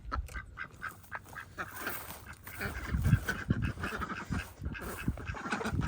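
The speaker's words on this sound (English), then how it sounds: "It's nice to have the ducks in here" Ducks quack repeatedly nearby in a cold farm enclosure shared with chickens, a busy overlapping chorus of nasal calls with some muffled rustling in the background.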